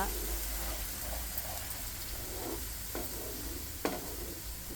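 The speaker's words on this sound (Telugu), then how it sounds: "నేను ఒక గరిటెడు నూనె వేశాను కరివేపాకు శనగపప్పు మినపపప్పు సన్నటి ఆవాలు జీలకర్ర" Curry leaves, chana dal, urad dal, fine mustard seeds and cumin sizzle in a ladleful of hot oil for a spinach dish, giving a soft, steady crackle with a couple of faint taps.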